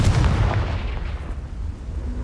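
Confringo fire spell from the video game Hogwarts Legacy, a loud, deep explosive boom at the start that rolls off into a fading rumble over about two seconds.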